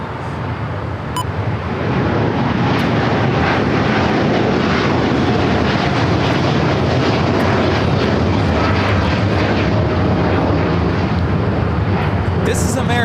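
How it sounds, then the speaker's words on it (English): An American Airlines Boeing 787-9 Dreamliner takes off from LAX on its way to Tokyo Haneda, a loud, continuous jet roar that fills the whole stretch without fading. "This is American Airlines Flight 27 taking off to Tokyo Haneda on the 787-9 Dreamliner"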